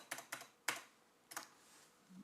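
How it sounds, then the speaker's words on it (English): Keys clack on a new computer keyboard in four sharp, uneven strokes, two close together, then one, then a last one after a pause. The taps sound close and crisp against a quiet room. "New keyboard."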